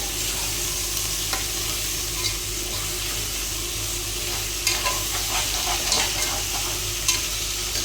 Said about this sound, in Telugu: ఇప్పుడు చికెన్ బాగా కలుపుకోవాలి.